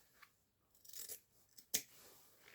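Scissors snipping artificial decoration while an Easter swag is being made, heard as a few faint, close snips with one sharper cut near the end, with no voices.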